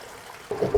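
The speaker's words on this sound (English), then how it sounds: "We've got water flowing, I hear it." Water begins rushing through a skoolie's newly plumbed water system during a pressure test, a soft trickle swelling into a louder close gush of flow partway through.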